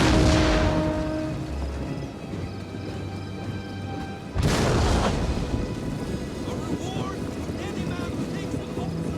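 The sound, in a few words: artillery fire in a video game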